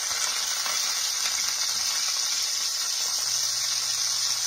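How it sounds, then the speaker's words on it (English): Cabbage searing in hot grease in a pan sizzles loudly and evenly, a dense continuous frying hiss throughout with no talk. "I'm going to get a good sear on this in that grease"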